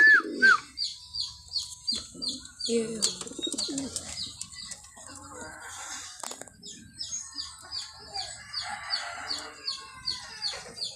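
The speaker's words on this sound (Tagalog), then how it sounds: "Ay, mga kalapatids." Pet pigeons coo in low, soft repeated calls, mixed with brighter chirping and clucking from nearby birds, with a steady rhythmic pattern of calls throughout and no talking.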